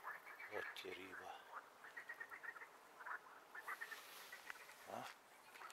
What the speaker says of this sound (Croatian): Nemojte mi misli da nije čista što se dole žabe čuju, kreketanje tu.